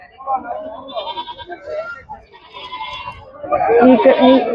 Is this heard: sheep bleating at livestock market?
yes